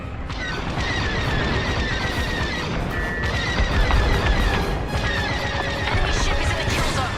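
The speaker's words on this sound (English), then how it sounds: "Detonate the core, now! Under fire. Don't be too close when that detonates." Core detonation in the Star Wars Squadrons space-combat game: a dense, roaring wash of blasts and crashing debris rumbles continuously, with laser-like tones and cockpit effects layered over it and no clear talk.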